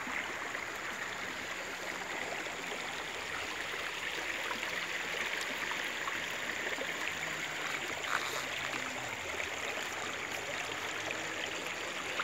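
A river flows behind a house in a steady, even wash of rushing water, constant and moderately close throughout, with no voices.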